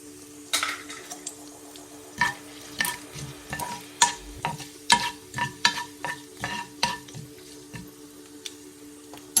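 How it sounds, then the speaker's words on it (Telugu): Red chillies sizzle in hot tempering oil for an Andhra-style mango dal, a steady fry hiss under repeated stirring scrapes and clinks of a spoon against the pan, close and fairly quiet. "అలాగే ఇక్కడ పోపు కూడా ఫ్రై అయిపోయింది."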